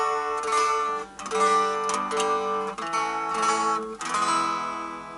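Harley Benton SC 450 electric guitar played out of tune, several strummed chords ringing with bright sustained harmonics, each strum separated by brief gaps, clear and close with no speech.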